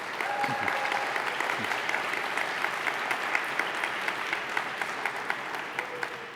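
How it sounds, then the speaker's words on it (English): A town hall audience gives the Simi Youth Council a big round of applause, steady clapping from a sizable crowd with a few sharper claps standing out and faint background tones. "let's give the Simi Youth Council a big round of applause"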